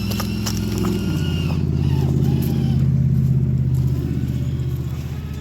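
A TRX4 RC crawler truck with a Fusion SE 1800KV motor driving along an outdoor trail, a close, steady motor whine with a gear-like buzz that climbs in pitch and holds before easing off.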